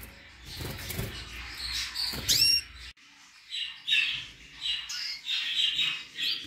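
A canary and goldfinch hybrid chick, in a nest beside a female canary, gives short, thin chirps and squawky calls in scattered bursts, close and fairly faint.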